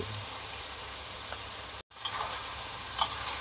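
Fish sauce poured into minced pork with holy basil stir-frying in a hot pan, a steady close hiss of frying, briefly cut off for an instant before the sizzle swells back, with no talk.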